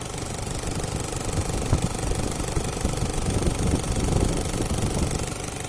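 A warm Toyota Hiace 1KZ-TE diesel engine idling, a steady, close, rumbling clatter with even knocking that holds at a constant pace throughout.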